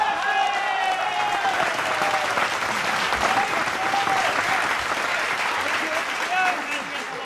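Audience at a live political comedy show applauds steadily, a dense sustained clapping that stays loud throughout.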